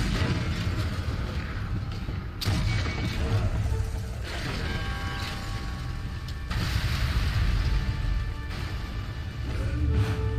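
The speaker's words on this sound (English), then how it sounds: "In case you hadn't noticed the explosions." Dense, continuous battlefield noise from the video game Sniper Elite 3, with booming explosions and rumble swelling in repeated surges over a loud, steady mix of mechanical game sounds.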